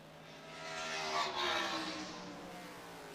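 Trans Am race cars at Lime Rock, a track set in a valley of hills, roaring past at a distance, the engine note swelling to a peak around the middle and then fading away.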